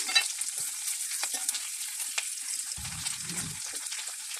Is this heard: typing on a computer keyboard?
no